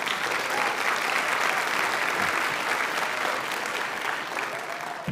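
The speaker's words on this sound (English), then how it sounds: "please feel free to applaud at any moment in terms of celebrating our graduates" Sustained applause from an audience at a graduate school hooding ceremony, a dense even clapping that carries on steadily from start to finish in a large room.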